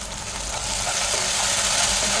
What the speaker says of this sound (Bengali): জল দিয়ে এটাকে ভালো করে ফ্রাই করে নেব।